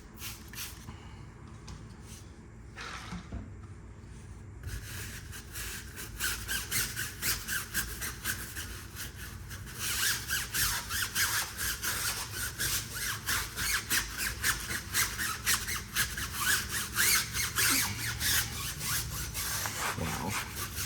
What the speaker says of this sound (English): we will rinse off my brush in between scrubbing